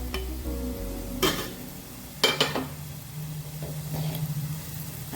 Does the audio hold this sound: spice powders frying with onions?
yes